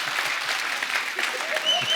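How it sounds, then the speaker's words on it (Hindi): A studio audience on a Hindi comedy talk show applauds steadily, a dense continuous wash of clapping at a fairly close distance throughout. "यार एक बार जोरदार तालियां संजू पाजी के लिए।"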